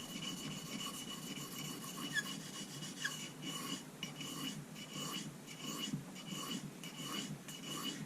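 A knife edge is stroked steadily over a soft Arkansas sharpening stone, giving a continuous close, faint raspy scraping with regular back-and-forth strokes.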